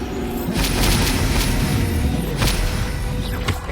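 A Bombarda explosion spell goes off in the video game Hogwarts Legacy, a deep booming blast over dense, continuous game noise, with a few sharp impact cracks scattered through the roughly four seconds.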